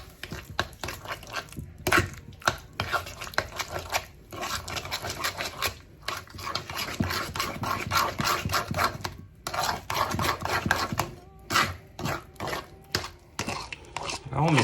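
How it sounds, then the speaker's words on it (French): Cream cheese filling for a lemon cheesecake being mixed in a bowl, with steady scraping, rubbing and clinking strokes that repeat continuously at close range and are loud with no talking. "Là, on mélange jusqu'à ce qu'on obtienne une crème bien onctueuse."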